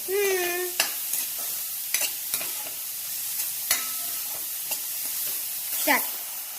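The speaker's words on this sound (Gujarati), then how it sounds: "જો શાકભાજી સંકળાઈ રહ્યા છે" Vegetables with salt sautéing in a pan while being stirred, a steady close sizzle broken by sharp scraping clinks of the utensil, with a brief tonal squeal at the start; no speech.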